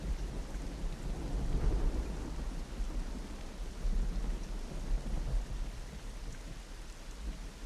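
Steady rain hisses while low thunder rumbles and swells throughout, a continuous, moderately loud storm with no voices.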